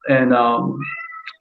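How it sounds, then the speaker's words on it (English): A pet cat lets out one long, loud, close meow that slides down in pitch, then a short higher chirp. "Oh, that's my cat."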